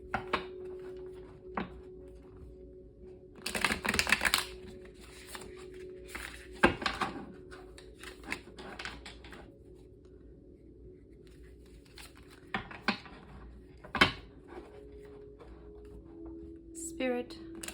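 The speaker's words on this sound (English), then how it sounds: "We're going to shuffle 3 times." Tarot cards are shuffled in soft riffling, flicking bursts with quiet taps and pauses between, close and fairly faint in a quiet room.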